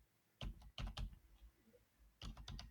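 Keystrokes on a computer keyboard while a town name is entered, a quick burst of three or four close, crisp taps, a pause, then another cluster of rapid clicks, heard alone with no talking.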